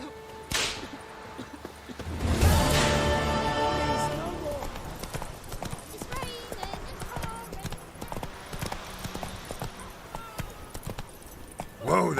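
Roach, the horse in The Witcher 3, gallops with quick rhythmic hoof clip-clops and a burst of whooshing movement, over game ambience and occasional voices.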